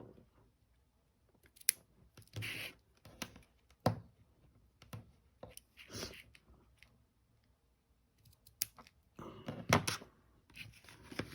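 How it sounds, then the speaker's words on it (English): Scissors snip through card stock for a March 2022 card kit, a series of short, crisp cuts spaced irregularly at close range with quiet pauses between them. "And I'll cut these a little bit more."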